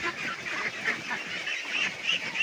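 Ducks eating banana trunk mixed with bran, a close, continuous run of busy quacking and honking from several birds feeding together.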